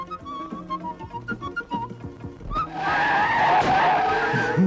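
Truck tires skid with a loud, sustained screech in an old Turkish comedy film. The screech starts suddenly after a stretch of tinkly music and keeps going, close and harsh.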